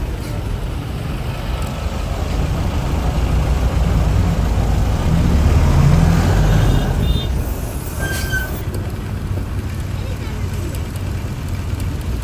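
Heavy street traffic at Hemayetpur on a crowded festive market day, with a bus engine rumbling nearby, a wash of passing vehicles and a brief horn, while voices talk underneath.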